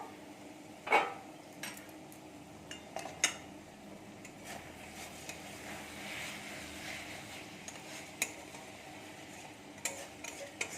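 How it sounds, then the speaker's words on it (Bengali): A metal lid lifting off a cooking pot of steamed prawns with lentil dumplings, heard as a few soft clinks and clanks over a quiet background with low bubbling. "ঢাকনাটা আমরা তুলে নেবো"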